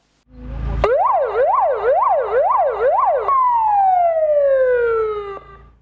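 An ambulance siren blares close and loud, first cycling rapidly up and down in a regular wail, then switching to a long, slowly falling tone as it winds down.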